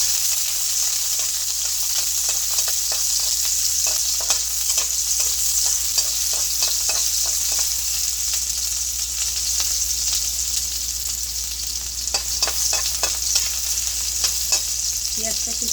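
Chopped onions frying in oil in a wok, a steady loud hiss of sizzling with scattered crackles and the occasional scrape of stirring, close and continuous with no talking.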